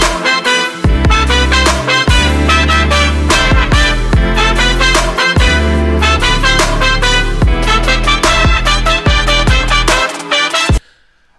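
Electronic track made in Ableton Live, with a full, loud mix of punchy bass, steady beat and layered synth melody playing continuously before stopping abruptly near the end.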